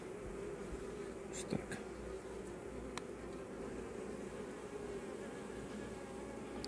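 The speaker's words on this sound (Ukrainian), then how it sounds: "Можна трошки випустити бджоли." Bees hum in a close, continuous drone while being released during queen rearing, with a few soft handling clicks and a brief spoken phrase.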